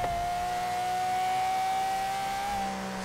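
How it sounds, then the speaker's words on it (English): A loud car engine in Forza Horizon 3 holds a steady high drone at constant revs, sustained and close throughout with no talk. "This car is loud, but sounds so good, man."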